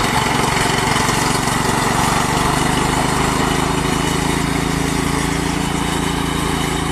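A riding lawn mower cuts grass in a rubber plantation, its engine droning loud and constant at close range with no pauses.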